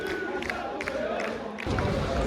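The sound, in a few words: football away fans chanting in stadium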